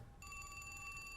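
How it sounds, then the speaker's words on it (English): A faint electronic phone ringtone chimes in a video game, a steady tonal ring that starts after a brief quiet moment and continues evenly, heard alone and low in level. "Faint ringtone can be heard nearby."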